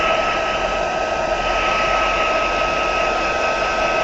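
A heat gun blows steadily during an industrial-themed craft session, giving a loud, continuous, even rushing whine with no breaks across the whole stretch and no voices.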